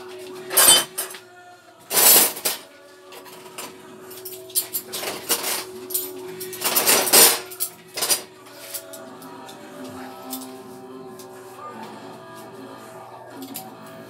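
Kitchen pots and dishes being washed, with bursts of clanking metal and clinking crockery at irregular intervals, some loud and close, then quieter rattling and faint background noise.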